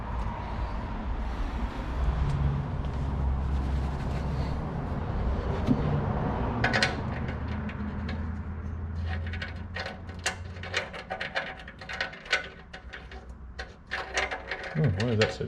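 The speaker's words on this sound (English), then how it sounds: "I'm gonna put the sump plug back in and we'll get her filled up with oil" A sump plug is threaded back into the oil pan of a Ford F150 by hand and ratchet, with irregular metallic clicks, ratcheting ticks and scrapes growing busier toward the end over a low hum, with someone talking.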